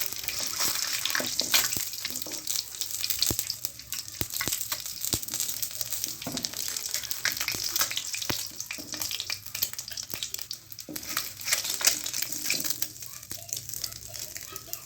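Eggs fry in a pan of oil for an egg curry in a home kitchen, giving a steady broadband sizzle with scattered crackles and pops throughout, close and moderately loud, with no talking.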